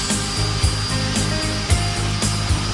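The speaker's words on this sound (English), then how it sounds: "Turn the router motor on" A router motor runs on a pantograph copier as the bit is lowered into a workpiece: a steady, close, continuous motor whine and hum with faint periodic low thumps, no voices.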